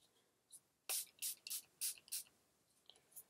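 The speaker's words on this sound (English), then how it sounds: "I just used the Milani Make It Last setting spray" A Milani Make It Last setting spray bottle is pumped close by, giving a run of five or six short, breathy hissing bursts in quick succession, followed by a couple of fainter taps, with no talking.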